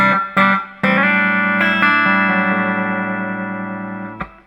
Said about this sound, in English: Makes a nice reverb unit.